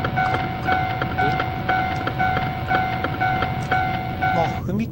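Railroad crossing in a driving-school game, with a steady two-tone crossing bell ringing repeatedly at an even rhythm over a low rumble of a passing train, fairly loud and continuous.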